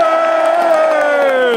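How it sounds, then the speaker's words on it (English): A crowd at an EDL rally in Westminster shouts and cheers in one loud, sustained, chant-like roar of many voices, close and unbroken from start to finish. "Thank you very much for your applause"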